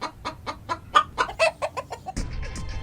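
A woman imitates a hen clucking, a run of about ten short, rhythmic clucks followed by a brief louder burst at the end, close and clear with no other talk.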